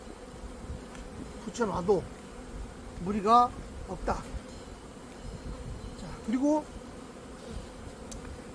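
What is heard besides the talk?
honeybees buzzing around a beehive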